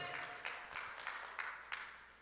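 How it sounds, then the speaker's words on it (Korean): A church congregation applauds together after a sermon, producing soft, rhythmic clapping with regular surges, distant and fairly quiet in a reverberant hall. "하나님께 영광의 박수"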